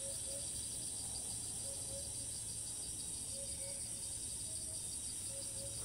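In Thailand, a cicada on a tree trunk sustains a continuous high-pitched droning whine, close and even in level throughout, with a few faint short calls underneath.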